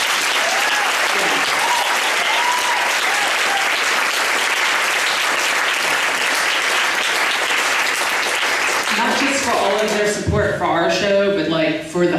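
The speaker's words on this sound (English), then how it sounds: "I want to have one more round of applause for Pam and for the Queer Culture Center." Audience applause honoring Pam and the Queer Culture Center, a loud, dense wash of clapping that holds steady for about ten seconds before thinning out near the end.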